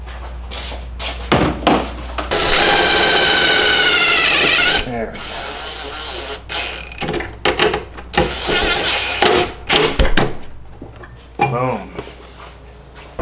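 Power drill driving a self-tapping screw into a metal bracket on a car being prepped for drifting, a loud two-second whirring burst followed by scattered clanks, clicks and handling noises close by.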